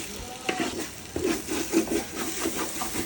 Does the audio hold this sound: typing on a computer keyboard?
no